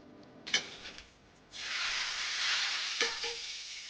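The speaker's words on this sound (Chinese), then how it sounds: "浇油。" Hot oil poured over braised meat in a wok at a rural market stall, a sharp burst of loud sizzling hiss that holds steady after a few clanks and scrapes.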